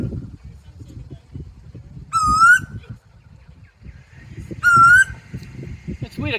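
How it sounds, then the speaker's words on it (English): A butcher bird calls twice in Merimbula, two clear, loud, fluting whistled phrases a couple of seconds apart, over quiet background rumble and low voices of people nearby. "Could be a butcher bird."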